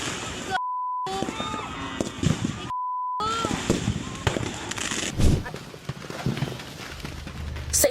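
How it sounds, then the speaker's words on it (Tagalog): Fireworks go off at a row of firecracker stores during New Year's Eve celebrations in Antipolo City, a jumble of sharp pops and crackling bursts amid crowd noise and people talking. "nang biglang nagsabugan sa baba ang mga paputok."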